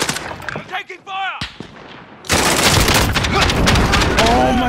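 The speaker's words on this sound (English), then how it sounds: "Taking fire!" Gunfire in a video game: a shouting voice and scattered bursts give way to a sustained, dense rattle of rapid shots and booms, loud and close, with talking over the shooting.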